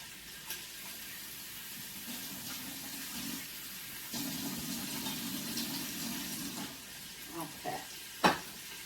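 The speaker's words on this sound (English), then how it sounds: "We're trying to get a nice golden brown sear on both sides." Chicken searing in an Instant Pot, a soft, faint sizzle that swells and fades with brief clinks and scrapes of utensils, some quiet movement between bursts.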